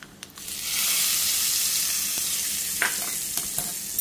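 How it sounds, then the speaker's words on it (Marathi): Hot tempering (phodni) with asafoetida sizzling loudly as it is poured onto chutney for spicy aappe, a steady close frying hiss with a few faint clinks near the end. "आता आपण ही फोडणी त्या चटणीवरती टाकून घेऊया।"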